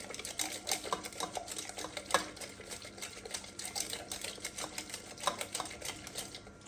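A spoon beating a mixture in a bowl, with quick, light, irregular clicking and tapping strokes at a low level, steady throughout with no talk.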